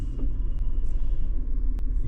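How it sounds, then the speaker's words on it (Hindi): A car creeps forward in first gear on the clutch alone, a steady low engine rumble close by with faint clicks, no talking. "ये मैंने धीरे धीरे चलाई, गाड़ी स्लोली बढ़ गई आगे"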